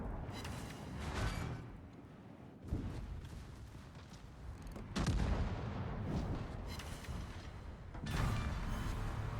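Naval guns fire in the World of Warships game, with repeated heavy booms and rumbling impacts at irregular intervals over a low battle background, with no talking.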